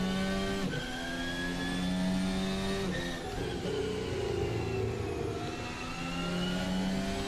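High-revving Formula One car engine held in 4th gear in an Assetto Corsa mod, a loud sustained whine with slight pitch dips and rises as the car rounds a corner, no voices.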